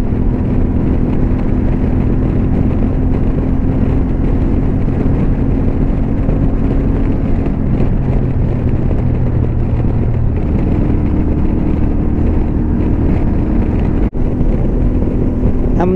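A CFMoto 450MT motorcycle engine holds steady around 5000 rpm on a road ride, a continuous loud drone with a mid-pitched hum and heavy wind rush throughout, shifting tone slightly partway through.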